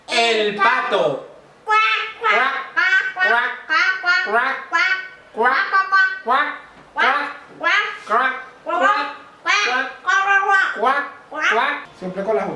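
A young child imitates animal sounds, producing a long series of rhythmic, voiced quacks one after another, loud and close, with no other sound behind it.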